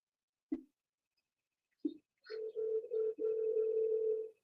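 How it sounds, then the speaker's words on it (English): A phone line heard during an attempt to dial a number: two short clicks, then a steady continuous tone with slight wavering that holds for about two seconds, fairly quiet, with no talk. "I'll keep trying to dial the phone number"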